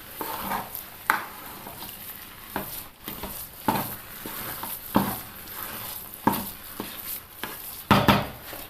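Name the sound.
stirring food with ghee in a pan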